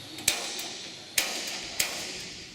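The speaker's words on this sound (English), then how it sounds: "I'm going to use a spring-loaded punch" Three sharp metallic snaps from a spring-loaded punch pushing down a rivet stem while building an Onex aircraft, spaced irregularly over a couple of seconds, close and crisp with a faint hum between strikes.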